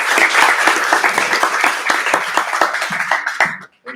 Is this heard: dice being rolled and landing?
no